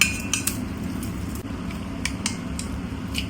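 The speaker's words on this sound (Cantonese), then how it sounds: "就將剛才擎咗水嘅配料撈落個蛋漿度" Drained stir-fried fillings are mixed into egg batter for Cantonese egg foo yong, with a spoon clinking and scraping against the bowl in quick, irregular taps over a low steady kitchen hum.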